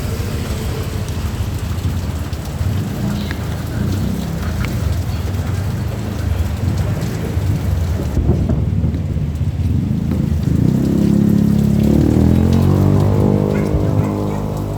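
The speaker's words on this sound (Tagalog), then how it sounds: "malakas ang ulan mga idol" Heavy rain pours steadily with rumbling thunder rolling underneath, loud and close, with a deeper swell of rumble toward the end.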